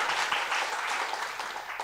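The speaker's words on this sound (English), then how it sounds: "Let's give him a warm round of applause." An indoor audience at a Buddhist dharma talk breaks into a warm round of applause, dense steady clapping from many hands throughout, fairly close with no talk over it.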